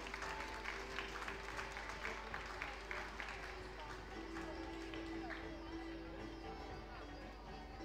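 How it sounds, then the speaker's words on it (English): Applause from a school audience at a Founder's Day celebration welcoming a student onto the stage, a faint, distant patter of clapping mixed with crowd chatter and a steady low hum. "Let's welcome Shlok on the stage with a thunderous round of applause."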